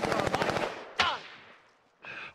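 Automatic gunfire in the Warzone Pacific video game, a rapid close burst of shots followed by a single sharp crack and then another short burst, loud and dry.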